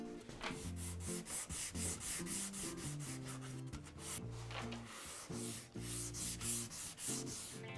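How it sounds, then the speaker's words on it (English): A flexible 120-grit sponge sanding pad rubbed back and forth over the edges of a vintage wooden sideboard, giving a close, continuous rhythmic scratching of repeated strokes with no talking. "I'm going to go over all these edges here now just to give those a sand"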